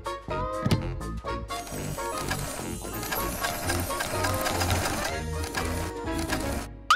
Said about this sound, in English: Wow, Sue, you're so good with the sewing machine.